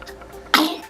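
A single short, sharp sneeze bursts out close and loud after a moment of quiet room noise, lasting well under half a second.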